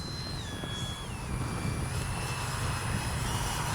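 An FMS 70mm Yak 130 RC jet whines overhead at a distance in a touch and go, a steady turbine hiss with a tone gliding slowly downward as it passes.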